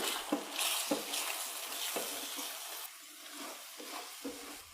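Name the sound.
egg frying and being stirred in a pan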